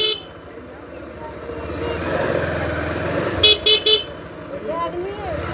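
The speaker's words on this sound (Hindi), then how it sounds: "यार ये तो बाइक का हॉर्न भी कुछ ख़राब हो गया।" A faulty motorbike horn gives three short, choked honks in quick succession, loud and close, with engine rumble and someone talking before and around the honks.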